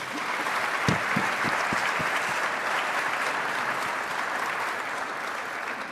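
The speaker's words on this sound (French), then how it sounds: "Je pense qu'elle mérite des applaudissements." An audience at a DRC–USA economic and investment forum applauds steadily, with a few sharp close claps early on, and the clapping stays loud throughout.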